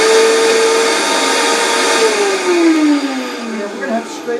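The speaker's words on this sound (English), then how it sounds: "use any high-speed blender that work for this. But I love my Vitamix." Vitamix high-speed blender churning frozen bananas into soft-serve banana ice cream, a loud steady motor whine whose pitch slowly drops as the thick mixture loads the blades, running continuously.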